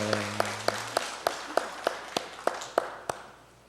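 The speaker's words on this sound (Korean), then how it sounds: "우리 하나님께 영광의 박수 올리겠습니다." Church congregation clapping in worship, about ten sharp, evenly spaced claps in a slow steady rhythm, fairly close and moderately loud, with a brief sustained tone fading out near the start.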